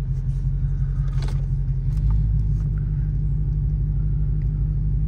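A Dodge Challenger fitted with a wide body kit drives along with a deep, steady engine rumble and road noise, heard close from inside the car with no voices.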